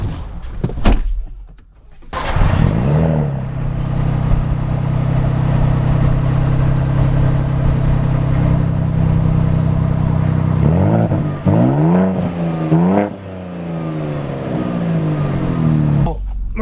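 A 2025 Ford Bronco Raptor starts off from rest with a door thump, then its engine rises into a strong, steady acceleration drone before shifting through gears with rising and falling revs, loud and close throughout.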